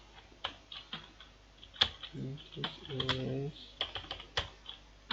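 Keys clacking on a computer keyboard in quick irregular bursts, close and crisp, while a voice speaks briefly over the typing.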